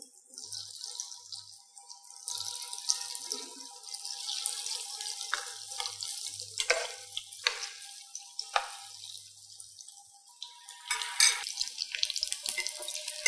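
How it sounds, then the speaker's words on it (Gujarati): Sev rolls deep frying in hot oil in a kitchen: a continuous hiss and crackle of bubbling oil with brief sharper splutters as pieces go in, close and moderately loud, without talk. "અને હવે આપણે બીજા પણ તળી લઈશું."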